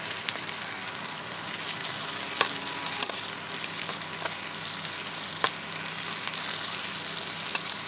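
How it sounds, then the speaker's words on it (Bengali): Red lentils fry in fish oil with salt and turmeric, a steady close sizzle with occasional sharp pops and spoon taps, and no talking. "এবার আমি দিয়ে দেব ডালটা দিয়েও আমি ভালো করে ভেজে নেব।"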